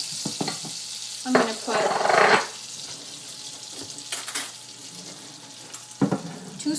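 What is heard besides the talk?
margarine warming and sizzling in a pan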